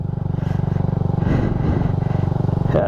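A Yamaha Raider J 115 Fi motorcycle engine drones steadily up close with a rhythmic pulsing throb, briefly clattering mid-ride and revving slightly near the end.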